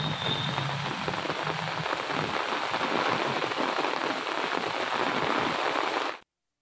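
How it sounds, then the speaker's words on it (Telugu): Heavy rain pouring in Telangana, a steady, dense hiss of drops hitting the ground that holds at an even level for about six seconds before cutting off abruptly, with no voices. "ఉరుములు, మెరుపులు, ఈదురుగాలులతో కూడిన భారీ వర్షం పడుతుంది"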